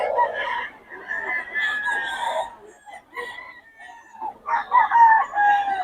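A Boston Sweater gamefowl rooster crows loudly and close, two drawn-out calls separated by a short gap, with clucking mixed in and no talk over it.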